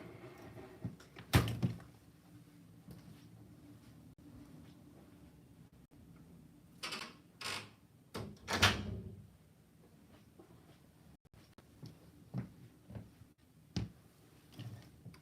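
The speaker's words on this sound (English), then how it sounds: "Let me shut that door." A door is handled indoors with a few scattered thumps and clunks, including a louder knock early and a cluster of bumps midway, between quiet pauses.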